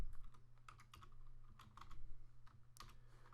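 Soft keystrokes tap on a computer keyboard while entering a spreadsheet formula, a quiet, irregular run of clicks close to the microphone.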